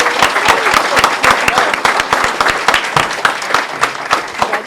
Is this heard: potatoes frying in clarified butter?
no